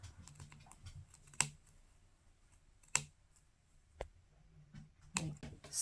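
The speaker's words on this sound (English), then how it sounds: "I always like using small pointy scissors for this part to just get through the backing" Small pointy scissors snip through the backing of fake fur while making a craft gnome: four quiet, crisp, well-spaced clicks close up against near silence.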